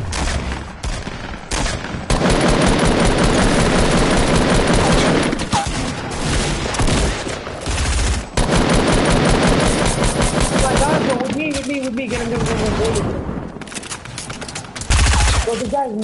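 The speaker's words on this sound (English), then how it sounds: "I damaged him with the SMG." SMG fire in a Fortnite-style build battle, loud sustained automatic bursts broken by brief pauses, close and dense, with voices talking over parts of the firing.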